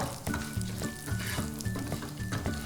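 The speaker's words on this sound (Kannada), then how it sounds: "ಇದಕ್ಕೆ ಪುಡಿ ಮಾಡಿಟ್ಕೊಂಡಿರುವ ಶೇಂಗಾ ಅಥವಾ ಕಡಲೆಕಾಯಿ ಬೀಜವನ್ನು ಹಾಕ್ತಾ ಇದ್ದೀನಿ ಇದನ್ನು ಚೆನ್ನಾಗಿ ಹುರ್ಕೊಳ್ಬೇಕು" Ground peanuts roast in a pan for sabudana upma, with a close, crackling sizzle and a rhythmic scrape of stirring that repeats about every half second.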